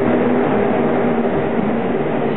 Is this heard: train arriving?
yes